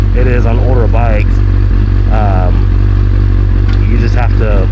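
A carbureted older motorcycle idles loudly up close after a cold start, a steady low engine drone throughout, while a person talks over it repeatedly.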